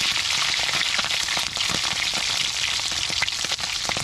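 Food, likely fish, frying in a pan gives a loud, steady, dense sizzle with faint crackles and small pops throughout.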